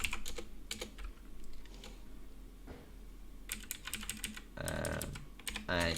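Code being typed on a computer keyboard, rapid irregular key clicks in bursts with short pauses, close and clear, building to denser clatter toward the end.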